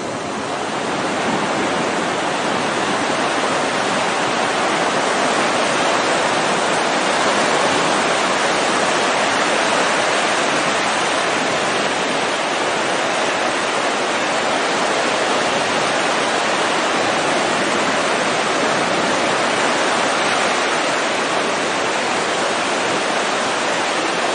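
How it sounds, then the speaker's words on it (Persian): River water pours into the Caspian Sea in Mazandaran, east of Nowshahr, a loud, unbroken rushing roar that stays even throughout. "اینجا آب رودخونه و دریا با هم یک میشه"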